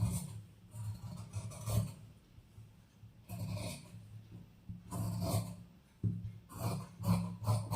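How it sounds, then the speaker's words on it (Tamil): Scissors cutting the back neck of blouse fabric, soft rasping snips in short bursts with quiet pauses between, close and low in level. "இப்போ பேக் நெக் வந்து கட் பண்ணிக்கலாம்"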